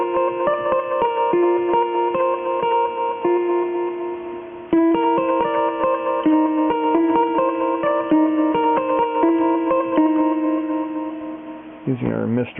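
A Hohner International K3 electronic piano plays a sustained melodic line with a bright, reedy, organ-like tone and crude velocity response, loud and continuous, ending in a brief pitch-bending wobble.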